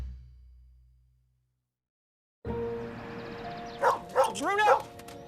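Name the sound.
dog barking in a Nissan Rogue advertisement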